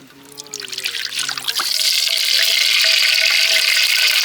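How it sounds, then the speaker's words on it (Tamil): Cooking oil poured into a pan for frying egg 65, a trickling pour building over a second or two into a loud, continuous bright hiss that holds steady, close and without talk. "முட்டை 65 செய்கிறதுக்கு வந்து எண்ணெயை ஊற்றிக்கலாம்"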